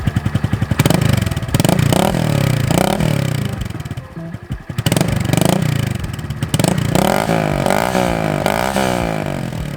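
A Honda Grom motorcycle with a fresh out-of-box exhaust and open muffler fires up and revs repeatedly, its engine note rising and falling loudly and close with a brief lull midway before more throttle blips.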